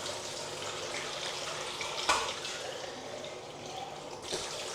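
Lukewarm tap water runs steadily into a bowl for mixing self-rising flour dough, a continuous close splashing hiss with a brief louder splash partway through and no talking.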